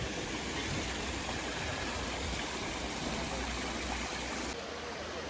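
Steady rushing water of a small stream beneath a bridge in a riverside spot where ducks swim, a continuous broadband wash at moderate level with no voices.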